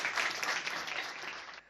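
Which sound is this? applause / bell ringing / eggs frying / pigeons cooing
applause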